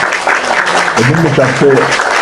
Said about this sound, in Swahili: Acha nipige makofi.